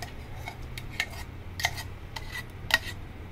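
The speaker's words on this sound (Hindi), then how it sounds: "और अब हम इसे मिलाएंगे।" A spoon scrapes and clinks against a bowl while mango fruit cream is stirred, giving a few distinct taps and light rubbing, close and fairly quiet.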